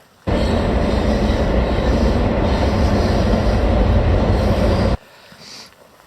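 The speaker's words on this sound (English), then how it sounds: "The train just went by up there." A loud train rumbles past a campsite in Northern Ontario with a steady roar for several seconds, then cuts off sharply, leaving only faint background noise.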